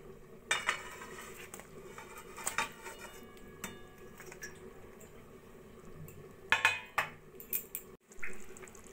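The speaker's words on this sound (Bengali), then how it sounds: "এবার দিয়ে দেবো আমি ভেজে রাখা বেগুনগুলো।" Fried eggplant pieces added to simmering gravy in a pan for doi begun, a few sharp clinks and taps of utensil against pan with soft wet plops, faint and close, no talk.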